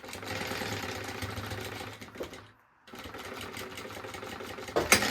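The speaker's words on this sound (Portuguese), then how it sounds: "Vou pegar a minha parte principal e fazer uma costura aqui, unindo" A sewing machine runs steadily, stitching fabric pieces together for a baby organizer, then stops briefly for about half a second before resuming its rapid mechanical whirr, with a small clack near the end.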